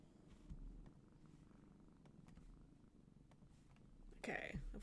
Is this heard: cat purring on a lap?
yes